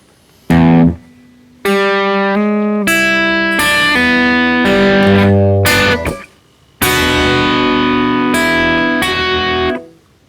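An electric guitar picks the second bar of the intro riff to a song, a short single note followed by several loud, bright phrases of picked notes and chords with brief gaps.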